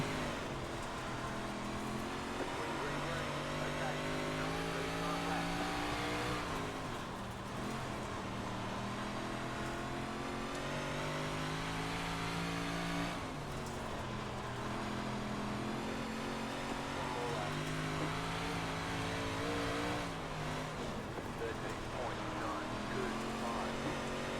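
A 358-class race car in iRacing running a qualifying lap at Cedar Lake, its engine a continuous droning whine that rises and falls in pitch through each turn, with someone talking over it throughout.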